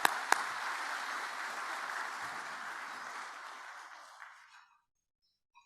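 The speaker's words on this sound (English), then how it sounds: "Please join me in a round of applause for all these generous sponsors." Applause from an audience at a port industry luncheon event, a broad steady roar of clapping that holds for about four seconds, then thins and fades out into silence.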